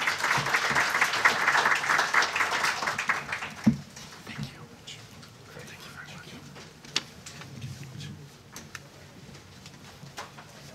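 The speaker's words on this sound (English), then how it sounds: "let's give them a round of applause" Applause from a seated audience at a bar event after a talk in Tokyo on the Fukushima Daiichi crisis, loud and dense at first, then thinning into scattered claps and faint room noise.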